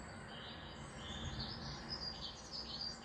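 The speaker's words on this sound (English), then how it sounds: "Birds and squirrels." Birds chirp and tweet in quick, light bursts over a faint background hum, continuing steadily throughout, with a soft insect-like buzz beneath.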